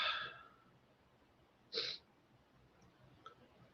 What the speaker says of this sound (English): Just want to keep sneezing